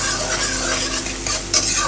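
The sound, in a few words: onions frying and being stirred in a pan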